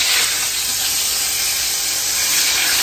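Tempeh frying in hot oil in a wok, a loud, steady, dense sizzle that fills the whole stretch without a break.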